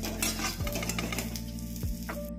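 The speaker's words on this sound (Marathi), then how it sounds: "छान गोल्डन कलर येऊपर्यंत भाजून घेऊया." Bitter gourd (karela) roasting in a pan, giving a dense continuous sizzle with occasional stirring clinks of a utensil against the pan, close and alone without voices.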